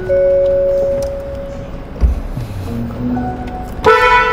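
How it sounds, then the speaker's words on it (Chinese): A Hyundai Ioniq 5 N electric car's horn sounds as short tonal honks, one brief blast in the middle and a brighter one near the end, amid quiet interior noise. "我要按喇叭，因为我每次买不知道为什么电动车的喇叭都会不灵敏。"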